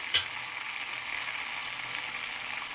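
Green chillies frying in oil in a kadai: a steady, soft sizzle and crackle, faint and continuous, with one brief clink near the start.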